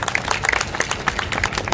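Audience applause at a school's golden jubilee celebration, a brief burst of many hands clapping at moderate loudness.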